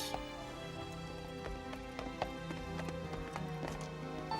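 An old nag of a horse pulls a food cart for a banquet, its hooves clip-clopping in a steady quick rhythm under faint background music.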